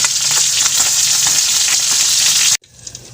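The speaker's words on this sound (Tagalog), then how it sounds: "ipinirito ko na lang muna yung isda para hindi maturog mamaya" Fish fries in hot oil with a loud, steady, close crackling sizzle that cuts off abruptly near the end, leaving a quieter faint background.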